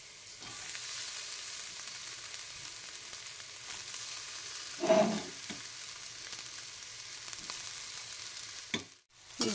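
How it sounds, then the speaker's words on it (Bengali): Boiled rice is stirred into fried vegetables for fried rice in a pan, giving a soft, steady sizzle with a brief louder stirring scrape midway, no voices. "এবার আমি দিয়ে দেব সেদ্ধ করে রাখা ভাত"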